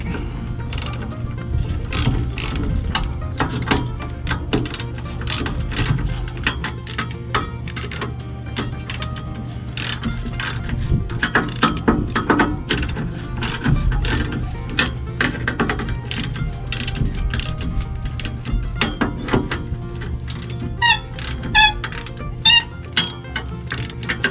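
A ratchet tightening the spring bolts on a trailer axle, rapid repeated clicking bursts in close, loud runs with short pauses between strokes.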